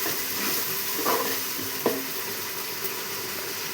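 Ginger, coriander, tomato and garlic paste being stirred in a hot pan, a steady sizzle with a few scraping spoon strokes, close and unaccompanied by talk.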